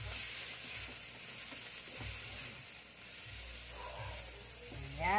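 Miso sizzling as it is sautéed in a pan and stirred for sinigang sa miso, a steady close frying hiss with soft scraping stir strokes and a brief clink near the end, no talk.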